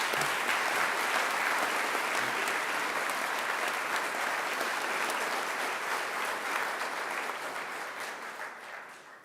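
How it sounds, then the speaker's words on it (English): A graduation ceremony audience applauding in a large hall, dense sustained clapping from many hands that holds steady and then slowly tapers off toward the end. "Let's give her another round of applause."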